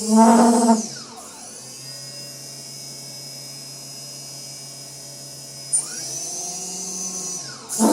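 Brushless motors on a mini quadcopter spool up with a rising whine, hold a steady high-pitched hum, then rev and wind down again, close and loud with no talk.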